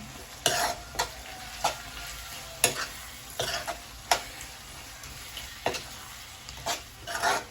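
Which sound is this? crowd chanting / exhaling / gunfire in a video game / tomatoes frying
tomatoes frying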